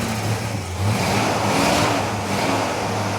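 Running close by, a 1986 Ford Mustang 5.0 V8 in a convertible with a rotted body gives a steady, loud, throaty idle with a slight rise in revs partway through, and no one talks over it.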